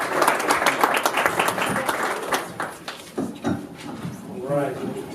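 Applause for a speaker at a startup keynote and VC pitch event, a moderate crowd clapping that thins out while a voice begins talking over the room.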